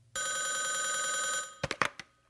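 An old-style telephone bell rings in one long continuous electric trill, followed by a few short clattering knocks as the receiver is picked up.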